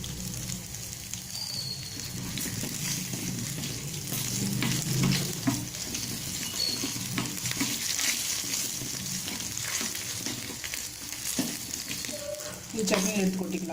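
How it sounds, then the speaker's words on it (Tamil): Chili, garlic and curry leaves sizzle loudly in hot oil as a tempering for mint peanut chutney. The crackle is continuous and close, with stirring scrapes and bursts of spatter over it. "இப்போ அந்த மிளகா, பூண்டு, கருவேப்பிலை போட்டுக்கிறேன்."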